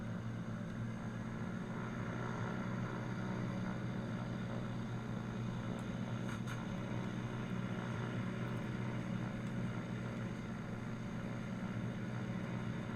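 A Boeing 747 airliner in a building video game drones with a steady, even engine hum and low propeller-like rumble throughout, constant in level with no voices.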